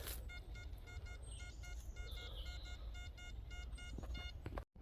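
Rapid repeated electronic beeps from a metal detector signaling junk pulse steadily over low rumble, then cut off abruptly near the end; nobody speaks.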